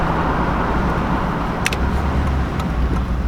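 A Chevrolet Silverado on a test drive after an oil catch can install gives a steady low road rumble and engine drone from inside the cab, with a faint brief ticking partway through.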